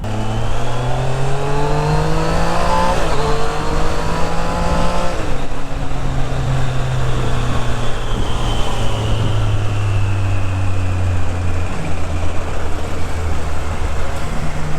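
A Kawasaki ZX10-R superbike with an SC Project full-system exhaust rides through city streets, its engine loud and close, the pitch climbing and dropping through gear changes in one continuous roar.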